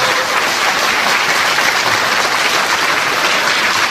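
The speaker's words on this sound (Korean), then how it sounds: "여러분 박수 부탁드리도록 하겠습니다." Audience applause at a book launch event for a former district head in Ulsan, Korea, a thick, sustained roar of clapping from a large crowd in a hall, loud and even with no talk.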